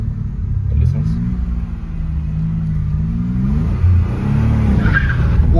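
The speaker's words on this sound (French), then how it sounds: "il fait un départ avec l'Alpine" An Alpine car pulls away under a loud, close engine rumble that rises and falls through rev changes, with a brief tire scrub. Someone talks over it.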